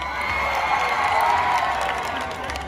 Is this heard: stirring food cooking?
no